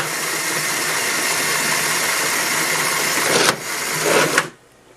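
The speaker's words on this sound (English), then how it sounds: "each side is driven by a motor with a 5-to-1 gear reduction, a little 8-tooth to a 40-tooth" LEGO motors with 8-tooth to 40-tooth gear reductions running in a Thwomp drop mechanism, a steady close whirring hum that shifts briefly and then cuts off near the end.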